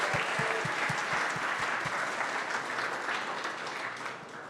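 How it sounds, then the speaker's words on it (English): An audience at the CyStarters Demo Day 2024 business event gives dense, steady applause that slowly fades toward the end, with no voice on top. "A round of applause for Judy, please."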